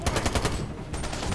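Rapid gunfire in the video game Army of Two: The Devil's Cartel as a sniper is shot, a loud burst of shots in the first half followed by further sustained fire.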